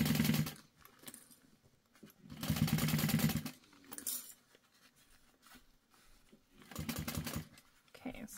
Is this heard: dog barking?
no